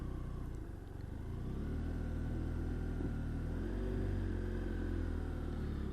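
BMW F700 GS motorcycle idling and rumbling at low speed through a slow U-turn, a steady low engine drone with a slight rise in revs, close and continuous over faint road noise.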